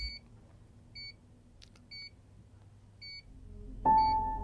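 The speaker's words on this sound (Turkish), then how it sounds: "Bir ses var bip bip." Short electronic beeps repeat at an even one-second pace over a low hum, then a louder continuous tone takes over at the end.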